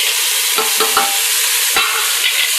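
Crushed onions frying in a pan give a loud, dense, steady sizzle up close, broken by a few brief scrapes and knocks as they are stirred.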